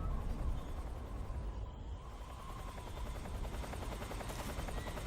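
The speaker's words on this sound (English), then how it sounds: "we'll still need to be careful because of that helicopter" A helicopter in the video game Metal Gear Solid 3: Snake Eater gives a steady rapid rotor chop with a constant engine drone, sustained and moderately close for several seconds, with no talk over it.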